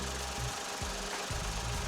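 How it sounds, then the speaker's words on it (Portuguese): A Renault Kwid with its SCE three-cylinder engine running cold, giving a steady close mechanical thrum with a pulsing low beat, heard alone without voices. "esse ruído característico do motor SCE de 3 cilindros"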